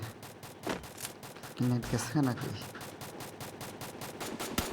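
Gunfire in the mobile battle game Free Fire comes as a rapid, evenly spaced burst of automatic shots that runs steadily throughout, while a player speaks briefly over it.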